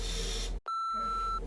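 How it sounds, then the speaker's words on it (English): Steady censor bleep over a spoken name in a casual conversation about breakups. It cuts in abruptly after a brief silence and holds a clean tone of under a second between stretches of talk. "just beep it"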